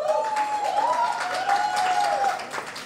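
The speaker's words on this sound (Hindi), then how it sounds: "तो अपने लिए जोरदार तालियां।" Applause from the audience at a press conference for the Cine Star Cricket League Season 2 cricket team, a steady wash of clapping across the clip with a whistle-like tone running over it.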